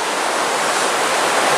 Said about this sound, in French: Le bruit de la rivière tout le long